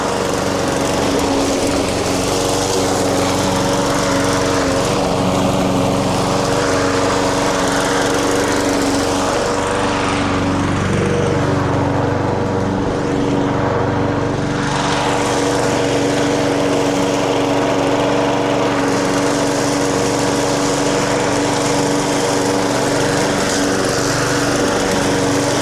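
A lawn mower engine runs steadily and loudly nearby throughout, a constant droning hum with no talk over it, during garden work on a farm.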